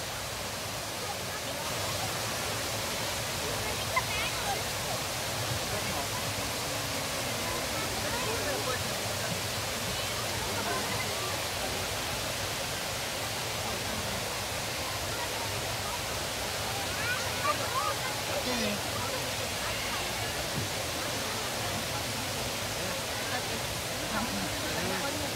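Water pours down a waterfall-like feature at Expo 2020 Dubai, a dense, steady rushing roar that stays constant and fairly loud throughout with no pauses.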